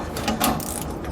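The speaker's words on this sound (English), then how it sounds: "19mm socket and wrench." A 19mm socket wrench ratchets to tighten bracket bolts during a steering stabilizer install on a 2007 Fleetwood motorhome, giving a close, steady run of rapid clicks with no talking.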